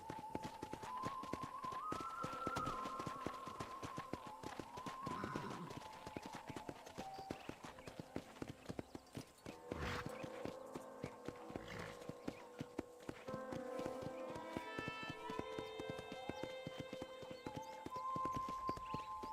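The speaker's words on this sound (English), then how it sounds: "I picked out a fine horse for you" Horse hooves clip-clop at a steady walking rhythm in Red Dead Redemption, clear and close under western background music and brief talk.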